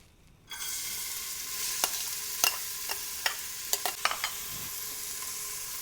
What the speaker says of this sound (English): So first I'm going to start off with some oil. Next I'm going to add some chopped onions.